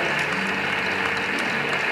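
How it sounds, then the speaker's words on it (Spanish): A pageant audience at the Miss Jaén 2010 gala claps for one of the contestants. The applause is steady and even throughout the short stretch, with no voices over it. "un aplauso para Miss Guadalquivir"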